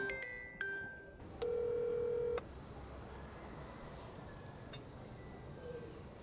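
A telephone being dialed in a Jamaican comedy film scene: a few short key tones followed by a long steady tone lasting about a second, then quiet room noise with faint beeps.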